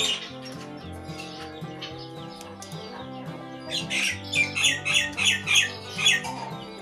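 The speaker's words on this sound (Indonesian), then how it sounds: "Kita dengar ya, dia mulai berkicau ya." A caged starling sings a varied run of whistles and squawky notes after eating egg white, ending in a rhythmic series of loud chirping bursts close by.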